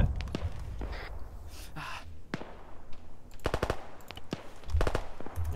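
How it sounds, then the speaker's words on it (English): Anti-aircraft guns fire in a military video game in rapid bursts of sharp, fairly close shots, with scattered single bangs and pauses between volleys. "AA shooting."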